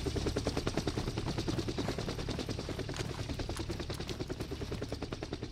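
Helicopter engine running in DayZ on the Livonia map, a steady rapid rotor chop with a loud continuous mechanical drone throughout, close and dominant, no talking.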